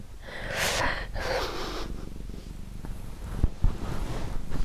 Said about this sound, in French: tu veux t'installer pour ronronner